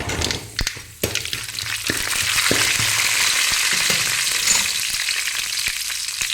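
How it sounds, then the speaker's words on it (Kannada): Mustard seeds, urad dal and chana dal frying in hot oil: a steady, bright sizzle with sharp popping crackles and a few clinks near the start, close and moderately loud, with no voices. "ಎಣ್ಣೆ ಬಿಸಿಯಾಗಿದೆ ಸಾಸಿವೆ ಹಾಕ್ಕೊಡ್ತೇನೆ ಆಮೇಲೆ ಉದ್ದಿನ ಬೇಳೆ ಹಾಕ್ತೇನೆ ಆಮೇಲೆ ಕಡಲೆಬೇಳೆ ಹಾಕ್ತಿದ್ದೇನೆ ಸ್ವಲ್ಪ ಫ್ರೈ ಮಾಡ್ಕೊಳ್ಳುವ"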